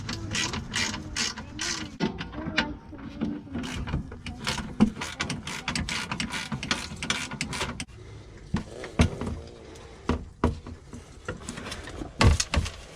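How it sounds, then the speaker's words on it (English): A 13mm socket ratchet clicks rapidly in repeated bursts while backing out bolts on the bumper of a Ford Mustang GT350, close up and loud, with brief pauses between runs. "So just take your 13mm socket"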